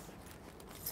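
A set of keys jangles briefly as it is handed over in a quiet room, a soft close metallic rattle over low background noise with no talking.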